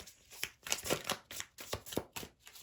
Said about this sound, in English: so a few more shuffles here for Pisces, please.